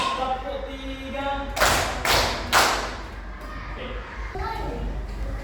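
Three loud claps from a group of children in a classroom, evenly spaced and close, standing out from a murmur of young voices before and after.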